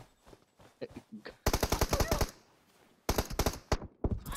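Rapid automatic gunfire in a PUBG Mobile-style shooter game, coming in two loud close bursts of fast repeated shots separated by a pause, with quieter scattered shots and clicks beforehand.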